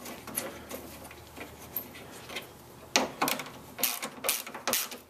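A ratchet wrench tightens 12 mm bolts on brackets during a Subaru timing belt job, producing quiet, rapid clicking bursts that grow louder and denser toward the end, heard up close with no speech.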